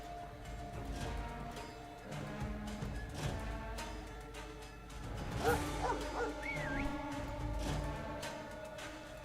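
Dogs in the fantasy role-playing game Stoneshard, a run of short barks, yips and whimpers over a low rumbling game backdrop, moderately close amid combat sounds.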